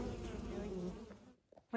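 Honey bees buzz densely around a beehive, a close, steady hum that fades out abruptly, leaving near silence broken by a few faint knocks.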